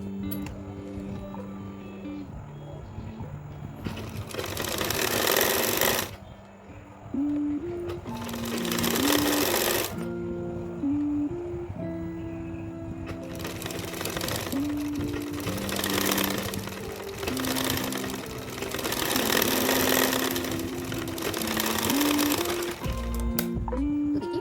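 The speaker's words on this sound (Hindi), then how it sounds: "उसके लिए हम इस तरह से बारीकी से मोड़ पर और इस पर लगा देंगे एक सिलाई" A sewing machine stitches a fabric drawstring in several bursts of steady, fast mechanical whirring. Short pauses and a pitch that changes with the speed separate the runs, and there is a low room hum behind it.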